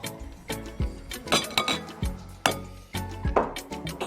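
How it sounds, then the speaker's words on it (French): Pieces of Milka milk chocolate and butter drop into a bowl in a series of sharp clinks and knocks, irregular and close, with no talk. "de chocolat au lait Milka, les verser dans le bol, y ajouter nos 60 g de beurre."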